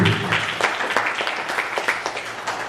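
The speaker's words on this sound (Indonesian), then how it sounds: "Kita berikan aplaus." Seated audience at an Indonesian education department handover ceremony claps for a newly appointed department head, a moderately loud stretch of distinct, uneven hand claps that continues throughout.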